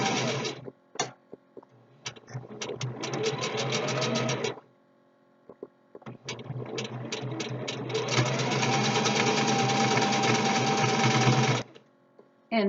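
A sewing machine runs in long, loud stitching bursts of rapid rhythmic whirring and knocking, stopping briefly between runs.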